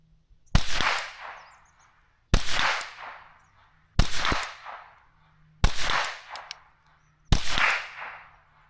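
Five loud, sharp reports from a PMC Sidewinder .22LR rifle at an outdoor range, evenly spaced about every one and a half to two seconds, each with a short decaying tail and a low steady hum between shots.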